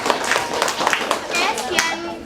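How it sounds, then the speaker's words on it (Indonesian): Classroom applause after a student presentation: a short scatter of several people clapping unevenly in a room, with speech going on alongside. "Beri tepuk tangan dulu ya."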